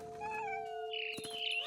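A cat meows in the video game What Remains of Edith Finch, a few short, close, tonal cries over a steady game music tone, with no talking.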